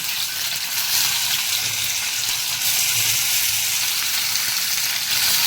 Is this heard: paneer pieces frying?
yes